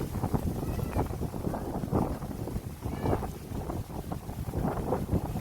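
Strong wind buffets the microphone outdoors near water with boats, a continuous rough roaring rush that swells and eases, loud and close, with no clear voice.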